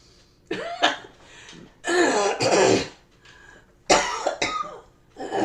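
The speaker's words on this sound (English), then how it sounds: "It's hard with a cough. It's really hard with a cough." Several harsh throat clearings and coughs in separate bursts, close and fairly loud, with short quiet gaps between them.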